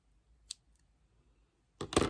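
Scissors snip into thick scrapbooking collage material for an art journal piece: a single faint click, then a louder, brief crunching cut near the end, close and alone.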